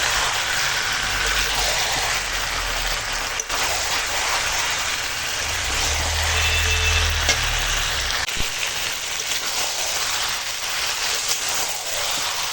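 New potatoes, skin on, fry with chicken in a pan for a Bengali curry, giving a steady, close sizzle that runs throughout with a brief low rumble partway through.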